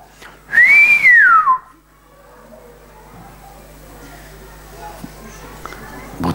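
During prayer prostration at the Karabaş-i Veli lodge on Miraç Kandili night, a single loud whistle glides up and then down, followed by a quiet, murmuring room.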